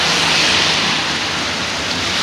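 Heavy rain falls steadily as water pours off a bridge beside its abutment in Hagley Park, a loud, dense, unbroken wash of rushing water and downpour with no pauses.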